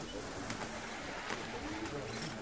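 Soft cooing of racing pigeons at a loft in Kozani, faint and fairly distant against a quiet outdoor background with low murmuring noise.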